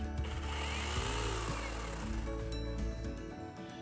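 A small 40V cordless chainsaw whirs steadily at close range, its pitch wavering as it bites and then easing off near the end.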